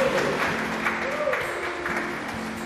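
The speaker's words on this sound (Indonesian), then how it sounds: "kita tepuk tangan untuk PIC acara ini" A church congregation at GPIB Petra Jakarta claps for the event organizers, a short, even patter of applause with a faint sustained tone in the background.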